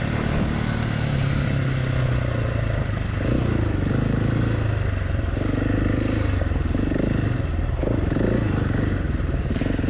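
Husqvarna 701 and KTM 690 single-cylinder motorcycles riding off-road on dirt, a steady loud engine drone with rising and falling revs and some clatter throughout, close to the microphone.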